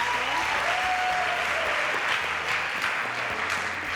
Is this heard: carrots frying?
no